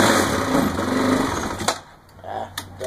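Honda 450X motorcycle engine started cold with the choke pulled, a loud close-up buzzing idle that cuts out partway, followed by brief clicks and bursts as it is restarted; people talk over it.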